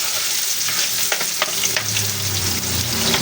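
White onions fry in a pan with a bright, steady sizzle, broken by a few sharp clicks and scrapes of stirring, all without any speech.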